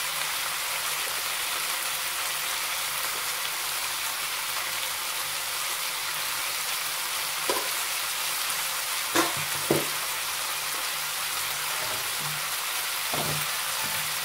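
Two tomatoes fry in a pan for a side dish served with poori and chapati, a soft, continuous sizzle broken by a few scraping stirs near the end.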